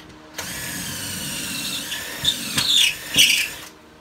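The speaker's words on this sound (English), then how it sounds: "So I got my drill here." Close-up power drill spins with a constant whir, breaking into harsh squealing bursts as it grinds through material, then stops.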